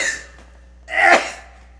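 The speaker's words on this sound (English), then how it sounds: "About to sneeze." A single sharp sneeze bursts out near and loud after a short quiet stretch, with a faint breath or throat sound before it, during a LittleBigPlanet 2 gaming session.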